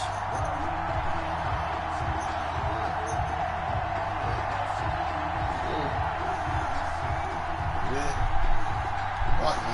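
Stadium crowd noise from an EA Sports NFL video game on PS4, Patriots versus Titans, a steady loud roar with rhythmic low thumping throughout and a slight swell near the end, with commentary voices talking over it.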